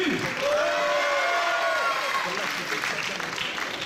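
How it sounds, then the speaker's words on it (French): Applause from the audience at a Miss Poitou-Charentes 2017 beauty pageant, a broad wash of clapping under a speaking voice that carries over it throughout, gradually easing off toward the end. "vous pouvez vraiment refaire un tonnerre d'applaudissements"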